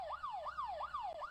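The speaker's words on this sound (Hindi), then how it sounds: "सायरन की आवाज़ आ रही है मुझे।" A police siren in the horror video game Fear to Fathom Home Alone wails in a fast rising-and-falling sweep, faint and distant, repeating several cycles with no talk over it.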